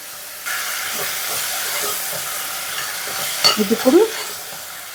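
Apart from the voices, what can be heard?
tomatoes added to frying pan for prawn curry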